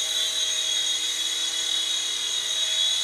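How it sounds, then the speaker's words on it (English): A World Tech Toys DC Comics toy RC helicopter flies with a steady, high-pitched electric motor whine and rotor buzz, continuous and fairly close, with no voices. "Not a super fun flying helicopter"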